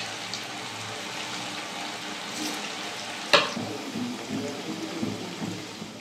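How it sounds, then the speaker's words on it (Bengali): Semolina sweets fry in hot oil over low heat, giving a steady, even sizzle with a sharp clatter partway through and light stirring noises afterward. "তেল গরম হয়ে গেছে, মিষ্টিগুলো আমি ভেজে নেব।"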